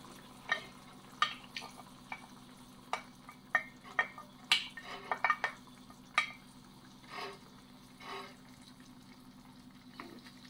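Shrimp going into a sizzling tomato tagine, giving a steady low frying hiss broken by scattered sharp clinks and scraping stirs, close and without talk.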